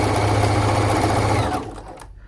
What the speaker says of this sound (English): I'm just sewing with the gathers underneath because it seems to interfere with them less in my experience